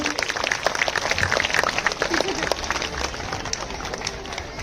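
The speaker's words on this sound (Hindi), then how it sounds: "उनका भी एक बार जोरदार तालियों से स्वागत कीजिए" Sustained, dense applause from a large audience at a school annual day function, welcoming a guest, steady and fairly loud throughout with no break.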